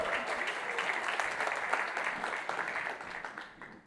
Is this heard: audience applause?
yes